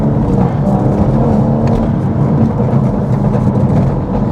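A 500 BHP BMW M140i drives fast with a loud, steady engine roar and heavy road and wind rumble close up, the drone holding level throughout.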